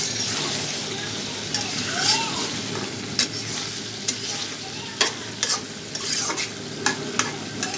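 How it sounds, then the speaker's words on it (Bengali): Fish curry made with pangas fish sizzles and is sautéed in a pan while a spoon stirs it, steady frying hiss throughout with periodic sharp scraping knocks of the spoon, close up. "ভালো করে কষিয়ে নেব"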